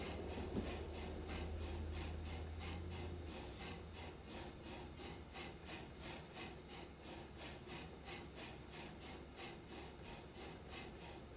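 Steam locomotive in the Steam and Steel game labouring up a hill toward a lumber mill, a steady rhythmic chuffing and rumble of rolling wagons that stays close and loud throughout with no talking.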